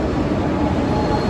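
A train at a station in Korea, a steady loud low rumble of rail cars and machinery droning on without break for the short stretch.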